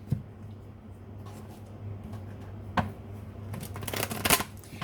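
Tarot cards are shuffled by hand in short riffling, papery bursts. The loudest flurry comes near the end, over a steady low hum, and no one speaks.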